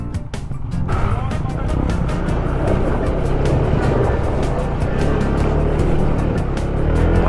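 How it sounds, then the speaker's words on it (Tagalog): Honda ADV 160 scooter crossing a river on an off-road trail, its engine a steady broadband rumble with sloshing water throughout, loud and close, with voices over it. "Ayan, river crossing."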